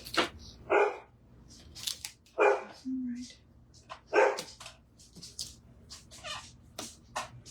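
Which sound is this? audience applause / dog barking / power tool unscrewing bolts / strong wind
dog barking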